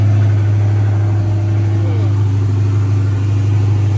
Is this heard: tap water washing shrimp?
no